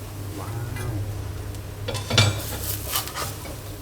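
Shrimp and glass noodles tossed in a pan, with soft stirring scrapes and a couple of brief metallic clinks over a low background hum.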